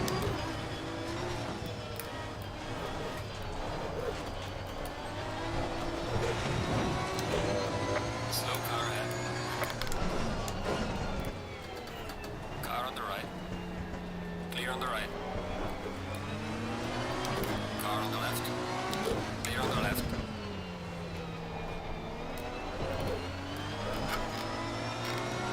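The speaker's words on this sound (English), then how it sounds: "Like, hearing the V12 from like 4 corners away." An Aston Martin Vantage V12 racer at Brands Hatch in Assetto Corsa Competizione revs and shifts repeatedly, its engine note rising and falling through gears, steady and fairly loud for the whole stretch.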